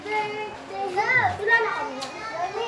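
Children's voices at play next door during a Kapampangan samgyupsal meal, a lively jumble of high shouts and chatter rising and falling steadily, fairly close but partly muffled.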